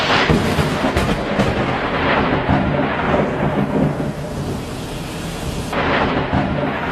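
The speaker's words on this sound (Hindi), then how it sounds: "आज भोर से ही मूसलाधार बारिश हो रही है।" Heavy rain pours down steadily while low thunder rumbles roll through underneath, loud and continuous.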